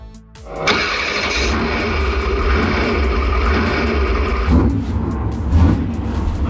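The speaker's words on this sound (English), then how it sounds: "The engine is so loud!" A battery-powered truck's engine roars loudly and steadily for several seconds, kicking in after a quiet start and shifting to a lower, rougher drone toward the end.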